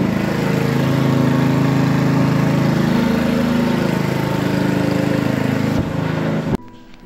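A small Bentelli motorbike engine, a 125 cc Grom-style bike, runs close by with a steady, buzzing drone that stops abruptly near the end.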